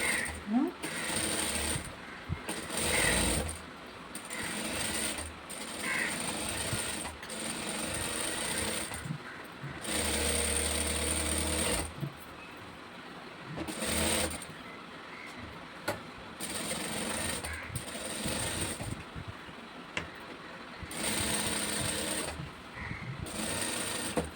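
A sewing machine stitching a blouse runs in repeated bursts of rapid mechanical whirring, stopping and starting every few seconds, with quiet pauses between runs.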